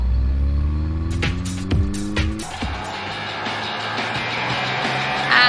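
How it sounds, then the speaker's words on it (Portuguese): A sports car in Free Fire rumbles close, its engine note sweeping up and down through revs and gear changes, then settling into a steady drive with some game effects. "Carro esportivo."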